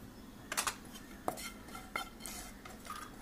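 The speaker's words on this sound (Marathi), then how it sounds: "आपण आता एका बाऊलमध्ये काढून घेऊया।" Masala peanuts are scooped from a pan into a bowl, with a few separate clinks and scrapes of a metal utensil against cookware spaced through the clip. The sounds are moderately close and there is no talking.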